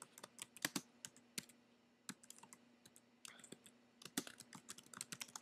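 Typing on a computer keyboard, with a Mac in use, comes through as quiet, irregular clusters of crisp key clicks and short pauses in a still room.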